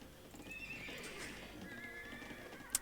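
Horse whinnies and hoof clip-clop from the Age of Empires 2 real-time strategy game, a moderately quiet, steady horse sound with a thin, high neigh running through it and a brief sharp click at the end.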